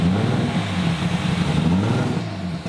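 A car engine rumbles and revs at a drift event in the UAE, with a steady, loud, low droning idle and slight rising revs, heard up close without talking.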